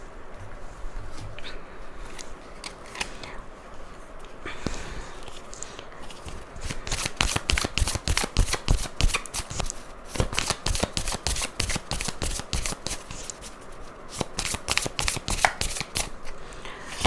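Tarot cards are shuffled in quick riffling bursts, a soft papery patter at first, then a long run of crisp, rapid flicks close to the mic, with no talking.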